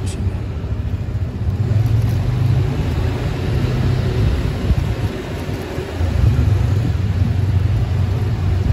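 A motorcycle engine idles and revs with a steady low rumble in an enclosed, echoing parking garage at the Pasaraya A building in Melawai, South Jakarta, swelling louder near the end.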